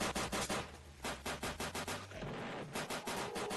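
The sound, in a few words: gunfire in the video game Final Stand 2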